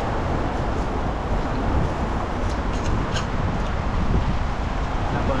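Strong wind roars and buffets steadily, a loud, broad rushing noise that never lets up, with no one speaking.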